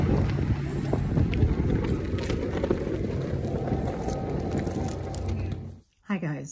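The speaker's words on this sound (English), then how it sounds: "It's really windy." Strong wind buffeting the microphone with a constant low roar, then a sudden drop and a brief voice near the end.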